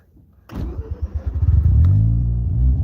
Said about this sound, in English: I'm going to move the FC back a little bit